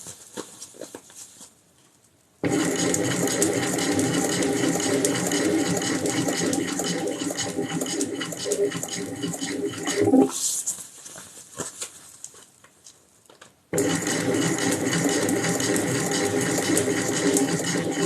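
A sewing machine stitches a motorcycle seat, run slowly to avoid snapping the thread: a close, steady mechanical whirr in two long bursts separated by short pauses and a brief quieter stretch.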